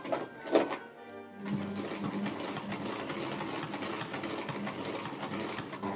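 A sewing machine runs steadily as it stitches fabric onto a military shoulder strap, starting after a short pause and a few handling sounds, then humming and clattering continuously up close at moderate volume.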